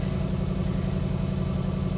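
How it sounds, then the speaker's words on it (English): Suzuki Samurai engine with a carburetor and a freshly converted Microsquirt EFI ignition, idling a little fast with a steady, throbbing low pulse that stays even and close up throughout. "The engine RPM is a little high right now."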